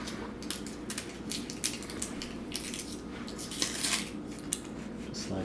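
A kitchen knife slices lengthwise down the middle of a food item on a cutting board while preparing carbonara, giving soft crunchy scraping and several sharper clicks of the blade against the board, close by with no talking.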